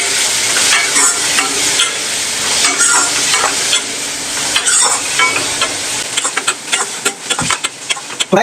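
A turmeric-seasoned breakfast stir-fry hisses loudly in a pan while a utensil scrapes and stirs, with sharper scraping clicks toward the end.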